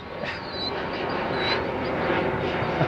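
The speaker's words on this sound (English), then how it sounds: "regional jet, we'll wait." Regional jet passing overhead outdoors: a steady, broad roar of jet engine noise that swells gradually and fills the whole clip, with faint bird chirps over it.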